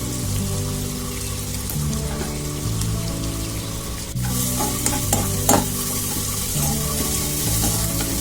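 Brinjal curry ingredients sauté in a pan over high heat, producing a loud, steady sizzle with repeated stirring scrapes close by and no talking.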